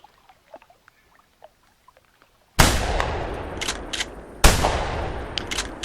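Two loud shotgun blasts from duck hunting on a bayou in the video game theHunter, each a sharp crack with a decaying tail, the first around midway and the second about two seconds later, following faint scattered sounds.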